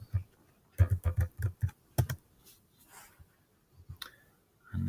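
Keys clatter on a computer keyboard in quick, close bursts of clicks, then pause, followed by a few scattered taps and a final burst, with no talking.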